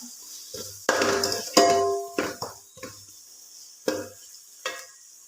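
Biryani masala cooking in a pan as yogurt is poured in, with a close, soft sizzle broken by several distinct stirring scrapes and clinks against the pan.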